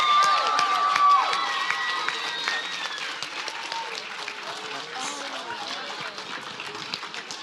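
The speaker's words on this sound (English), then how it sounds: "Let's give one more big round of applause for our Coaches Awards." Crowd applause and cheering at a swim team's season awards ceremony, loud, dense clapping with scattered shouts and voices that gradually settles over several seconds.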